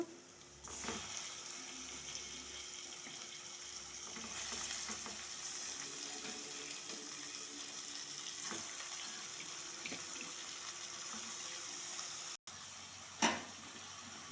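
Chicken sizzles in hot oil with a steady hiss and scattered crackles, close and moderately loud, with a brief gap and then a sharp clatter near the end.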